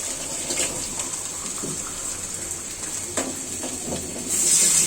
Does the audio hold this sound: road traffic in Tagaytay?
no